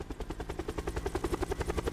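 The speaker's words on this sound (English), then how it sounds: "I'm riding shotgun with somebody on a helicopter" A helicopter in a video game chops steadily with rapid, even rotor beats, loud and close throughout with no talking.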